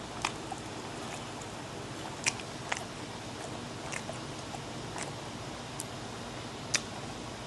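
Soft, close chewing of cheese sausage and Korean instant noodles during a late-night snack, with faint wet bites and small clicks scattered over a quiet background and no talking.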